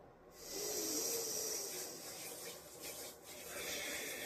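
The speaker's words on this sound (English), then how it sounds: "See what I'm doing is just rubbing my hands together, making them warm, getting that energy flow going." Hands rubbing together briskly to warm them during a calm Reiki session, a soft, close, continuous dry swishing friction that runs steadily for several seconds with slight dips in intensity.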